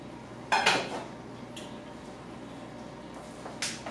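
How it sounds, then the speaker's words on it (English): Cooked rice being scooped and divided into plastic food prep containers, a couple of sharp utensil clacks against the containers at the start and end with quiet scraping between, close and fairly soft. "I'm going to start divvying up the rice in these food prep containers"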